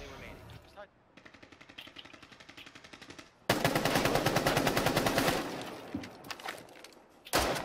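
Gunfire in Rainbow Six Siege: quieter rapid automatic bursts give way to a loud, sustained close burst of machine-gun fire, then a pause and a final sharp volley.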